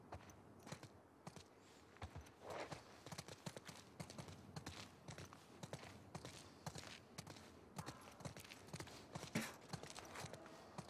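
Horse hooves clip-clop at a steady walking pace in The Last of Us Part II on the PS5, a fairly quiet, continuous stream of hoofbeats mixed with soft ambient game sound and no talking.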